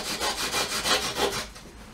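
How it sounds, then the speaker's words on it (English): Wooden parts of a DIY H-quadcopter frame being sanded flat against a table, giving steady back-and-forth rasping strokes, about seven close, even passes that fade out near the end. "compress that one in and sand it roughly to the table"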